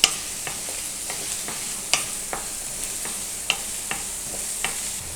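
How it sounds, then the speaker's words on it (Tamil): Onions fry in a pan with a soft continuous sizzle while a spoon stirs them, giving sharp scraping clicks at an irregular pace, close and clear with no talking. "பெரிய வெங்காயம் சின்ன வெங்காயம் போடுங்க."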